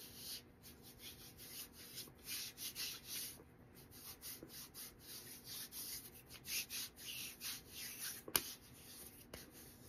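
Soft repeated rubbing of leftover beard oil into tattooed skin by hand, close and quiet with a rhythmic brushing texture and one brief sharper tap near the end.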